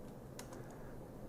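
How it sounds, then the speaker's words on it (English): A few soft taps on a computer keyboard sound faintly against a low steady hum, a brief quiet cluster of keystrokes. "I'm going to type in"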